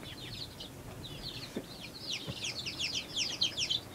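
A baby chick, a large-style white Plymouth Rock, gives quick high-pitched peeping cheeps that grow busier and louder toward the end, with a couple of soft knocks underneath.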